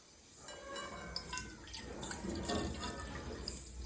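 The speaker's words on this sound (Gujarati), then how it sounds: "તો ચલો અહીંયા હવે આપણે આની અંદર કોફી બનાવવા માટે દૂધ લઈ લેશું." Milk is poured into a pot to make coffee, a soft liquid trickle and splash that builds gently over a few seconds, close and fairly quiet.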